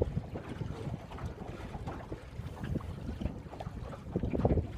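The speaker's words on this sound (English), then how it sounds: "I was actually sailing my own boat for the very first time" A sailboat under way in a steady wind, with broad rushing wind noise buffeting the microphone and faint water sounds running continuously throughout.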